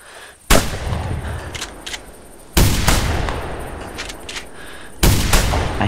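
Three loud, sharp shotgun blasts aimed at ducks in theHunter hunting game, spaced about two seconds apart, each followed by a rolling decay into quiet outdoor ambience.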